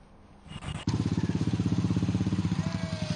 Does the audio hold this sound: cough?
no